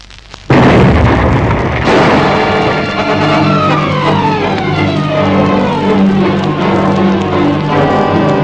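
A sudden loud explosion as a radio station is blown up bursts out and becomes a long roaring rumble of debris and echoes, with high whistling tones sliding down beneath it.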